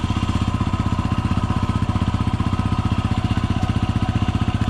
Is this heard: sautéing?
no